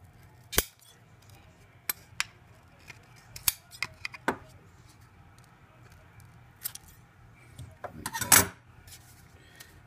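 Scissors trimming a fabric crib insert, with several sharp isolated snips spread unevenly over ten seconds, close and crisp, and a denser flurry of cuts near the end against quiet room tone.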